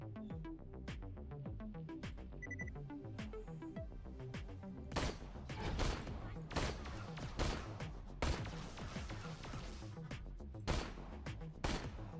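Rapid gunfire in the shooter game Borderlands: The Pre-Sequel, with dense bursts of shots and heavier impacts repeating throughout, loud and close over faint electronic background tones.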